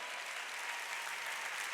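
A church congregation claps together during a service, dense and even applause that fills the room for the whole short stretch.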